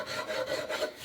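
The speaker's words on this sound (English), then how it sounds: "So as I file this off, or rasp it off" A rasp files down the wood of an oil-soaked shotgun stock being restored, giving steady close-up rough scraping strokes with a rhythmic back-and-forth pulse.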